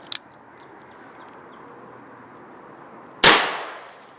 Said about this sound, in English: Spear Gold Dot 38 Special out of an EAA